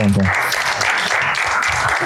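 Live audience at a Marathi stand-up comedy show clapping together in a short, dense burst of applause that fills the room, starting right away and holding steady.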